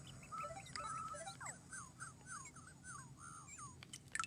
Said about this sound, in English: sorry if you're hearing background noise. Our dogs are being really dumb and idiotic right now